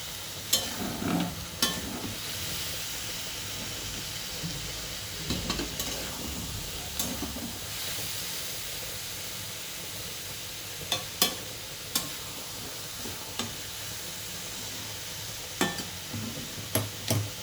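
Small chuno fish coated in paste fry in a pan with a soft continuous sizzle, punctuated by occasional crisp clicks and taps of a spatula.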